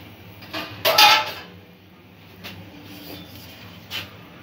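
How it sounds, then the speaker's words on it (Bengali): Metal pot being set onto a stand inside a steamer of hot water while making suji dhokla, a few clanks and scrapes with one louder ringing clatter, then quieter knocks. "এই পাত্রটা এবার এখানে স্ট্যান্ডের ওপরে আমি বসিয়ে দেব।"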